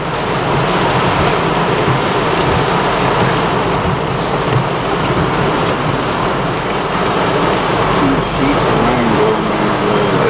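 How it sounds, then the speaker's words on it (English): Torrential rain pours heavily in rural Greene County, Alabama, a loud, dense, continuous roar of downpour drumming steadily from start to finish, heard from near a vehicle. "This is some torrential rain here."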